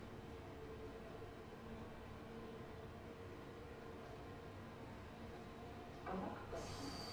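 A London Underground Bakerloo line train runs through a tunnel, giving a low, steady rumble and hiss throughout, with a brief clatter and rise in noise near the end.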